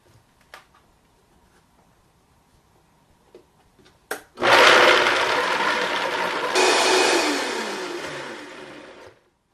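A blender purees clamless New England chowder in an Instant Pot recipe into a creamy, smooth consistency, roaring loud and close for several seconds after a few faint clicks, with a shift in pitch partway through.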